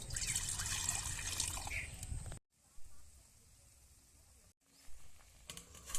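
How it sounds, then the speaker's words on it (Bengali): Water poured from a vessel into a pan of vegetables being cooked, including cauliflower stalks, a loud splashing pour for about two seconds, then quieter stirring and clatter in the pan. "আমি অল্প একটু জল দিয়ে দেবো"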